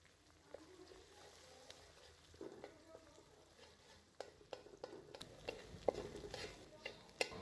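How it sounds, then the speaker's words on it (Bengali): Fish roe fries in a pan alongside prawns for fried rice, with a faint continuous sizzle broken by scattered stirring clicks and taps of a spatula, quiet and close with no talk. "একটু সাইড করে মাছের ডিমটাও ভেজে নেব।"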